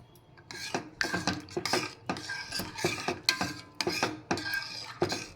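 A spoon stirs sabakki savige bellada payasa in a metal pot after poppy seeds and cardamom powder go in, with rhythmic scraping and clinking strokes close up and no talking.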